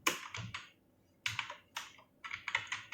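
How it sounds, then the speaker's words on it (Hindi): Typing on a computer keyboard, close and quiet, with short bursts of rapid key clicks separated by brief pauses. "जैसे मैं यहाँ टाइप कर रहा"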